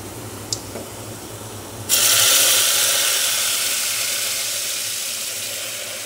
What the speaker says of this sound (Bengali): এখানে পেঁয়াজ মরিচ কিন্তু ভাজা হয়ে গেছে, এখন ডালটা দিয়ে দেওয়া হবে